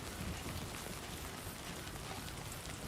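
Steady, soft rain hisses evenly over the landscape in the video game Death Stranding 2, a faint continuous wash with no voices.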